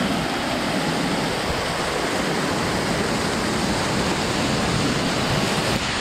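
Kings Canyon Waterfall near Carson City, Nevada, pours in a constant, loud broadband rush of falling water beside a swimming hole, unbroken and steady with no voices.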